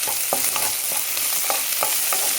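Ginger garlic paste fries with carrots in a pan, a constant close sizzle broken by repeated scraping stirs of a spatula at a loose, uneven pace, no talk.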